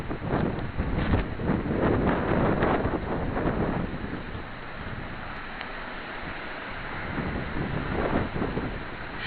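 A strong gust of wind during a summer thunderstorm in Vougy roars into the microphone as a loud, continuous rushing buffet that swells and eases without a break.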